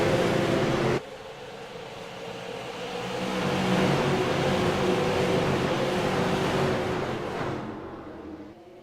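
iRacing race cars in a Tundra Super Sim Series event at New Hampshire Speedway power up at the green flag, a broad engine roar that swells and holds loud before easing off.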